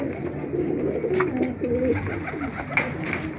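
Pigeons in a breeding loft with stands of nest boxes, several birds cooing in repeated low rolling phrases over a steady indoor hum, one brief sharper sound near the end, no talking.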